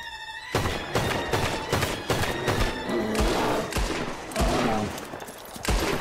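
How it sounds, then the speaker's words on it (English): Rapid, loud gunshots fired at bears in the video game Red Dead Redemption 2, a dense barrage of close shots lasting almost the whole clip. "Shoot the 3 bears."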